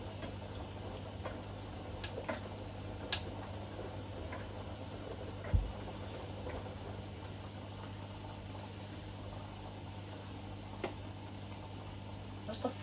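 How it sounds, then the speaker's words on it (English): A kitchen fridge runs with a low steady hum close by, with faint occasional ticks and clicks over the drone in a quiet room. "That's the fridge making that noise."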